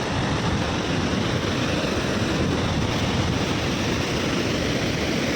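Godchinmalki waterfall near Belagavi roars as a dense, steady broadband rush of falling water, loud and unbroken throughout with no voices.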